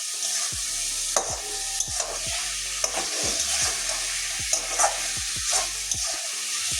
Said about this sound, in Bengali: এবারে ভেজে রাখা পটলগুলো দিয়ে দেবো। 2 মিনিট কষিয়ে নেবো ভালো করে।